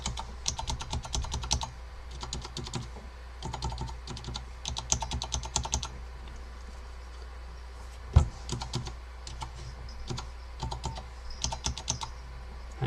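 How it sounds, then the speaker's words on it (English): Clacky Alps switches on a Focus FK-2001 keyboard are typed on in quick bursts of sharp clicks, with brief pauses between runs and one louder knock, close and fairly quiet against a low hum. "this switch is doing that same clacky thing as over here."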